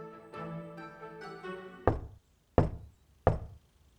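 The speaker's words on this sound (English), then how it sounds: "it starts with a knock at a door" Three sharp, hollow knocks on a door, evenly spaced, following a few seconds of soft muffled sound; close and fairly loud, with no talking.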